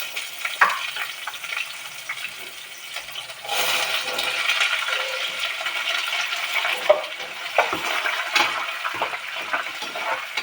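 Onions added to a pan for mutton curry, frying with a steady sizzle and scraping stirring, a louder burst of sizzle partway through, no talking.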